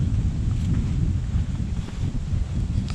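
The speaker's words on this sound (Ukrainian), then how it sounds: "Такий вітер хана" Strong wind at the Dnieper rapids buffets the microphone in a steady, loud low roar with gusty fluctuations throughout, no voices.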